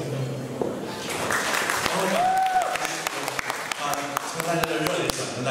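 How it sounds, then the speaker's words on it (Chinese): An audience at a 2019 Thanksgiving gathering of Chiao Tung University alumni in Houston claps in a steady, dense round of applause, with voices talking over the clapping throughout. "从大家的热烈掌声"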